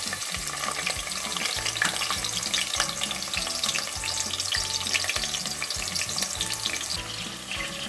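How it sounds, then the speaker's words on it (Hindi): Chopped onions fry in a pot with four to five spoonfuls of oil, giving a steady close sizzle broken by rhythmic scraping as they are stirred, with no talking. "प्याज को थोड़ा सा भूनना है"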